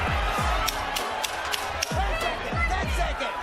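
A timekeeper's sharp ten-second warning clap rings out at a boxing match, a few distinct bright snaps cutting through crowd noise, dull punch thuds and ringside commentary.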